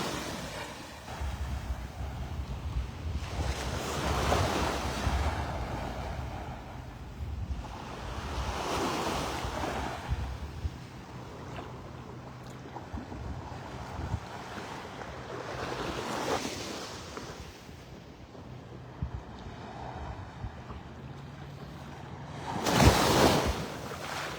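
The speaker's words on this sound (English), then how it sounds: "Those waves." Ocean surf breaks on Vanderbilt Beach in North Naples, Florida, with waves surging and washing in long swells every few seconds, wind buffeting the microphone and one louder crash near the end.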